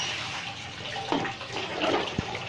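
Water poured from a jug during home distillation of a herbal extract, heard as a steady close gush and splash running throughout, with no talk.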